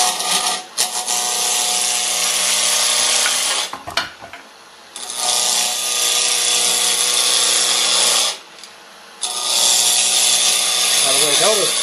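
A wood lathe spins a blank at about 2,000 RPM while a roughing gouge cuts it into a cylinder, a loud continuous hissing shear of shavings that stops briefly twice between passes, with talk alongside.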